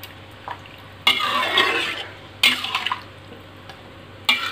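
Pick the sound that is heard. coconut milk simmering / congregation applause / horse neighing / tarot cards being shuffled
coconut milk simmering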